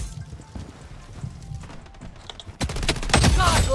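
A KAG-6 rifle firing tracer rounds in a video game opens up midway as rapid, loud bursts of automatic fire after quieter background game sounds.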